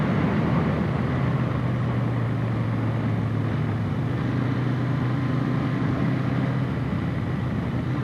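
A Royal Enfield 650 twin motorcycle engine rumbles steadily at a low, even idle throughout, with a constant deep hum and no voices.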